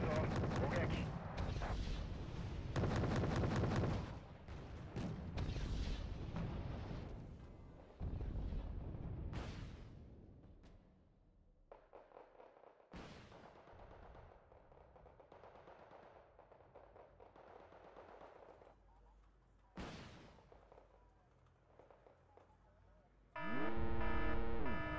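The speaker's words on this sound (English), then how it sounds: "This BMP-3 is literally shooting your landing crafts." A BMP-3 fires on landing craft in the video game Wargame Red Dragon: loud bursts of cannon fire and explosions in clusters, then quieter scattered shots and impacts, ending in a loud burst.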